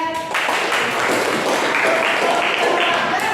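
A burst of steady clapping from a group at a teacher-training session in Indonesia, filling the whole moment at moderate loudness, with a voice faintly mixed in.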